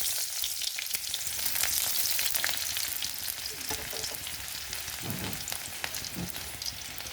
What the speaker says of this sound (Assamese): এটা পিঁয়াজ সৰু সৰুকৈ কাটি লৈ দি দিলোঁ।